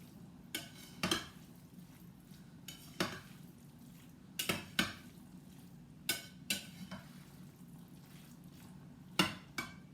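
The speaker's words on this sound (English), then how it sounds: "I'll stir it up again. Mix everything in there." Russian salad stirred in a bowl, with a utensil giving quiet, irregular clinks and scrapes against the dish in short bursts over a hushed room, and no voices.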